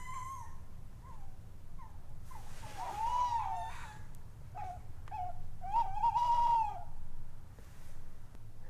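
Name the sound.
tawny owls calling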